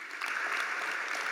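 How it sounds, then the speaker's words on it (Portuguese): A church congregation applauds together at a Portuguese-language evangelical service, a steady, dense clapping that fills the whole short moment at even loudness with no voices over it. "salva de palmas para Jesus."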